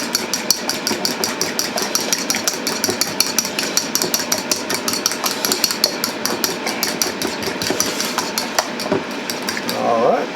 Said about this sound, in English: get this egg mixture mixed up